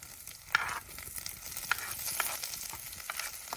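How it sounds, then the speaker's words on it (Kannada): Chopped onion frying in a pan with green chillies, a steady soft sizzle with a few brighter crackling bursts and occasional stirring, close and moderately quiet, no talking. "ಈರುಳ್ಳಿ ಎಲ್ಲ ಚಂದ ಮಾಡಿ ಫ್ರೈ ಮಾಡುವ"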